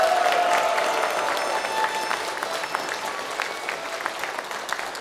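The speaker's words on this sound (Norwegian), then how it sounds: "Skal vi gi dem en applaus selv?" Audience applause in a sports hall at an old-time dance and folk music gala in Heidal, Norway: steady, dense clapping from a large crowd, sustained throughout without talk.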